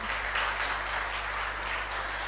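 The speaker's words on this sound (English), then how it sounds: "A round of applause for him" Steady crowd applause at a corporate launch event, a continuous even wash of many hands clapping with a low hum beneath, moderately loud and uninterrupted.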